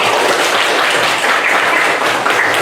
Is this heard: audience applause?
yes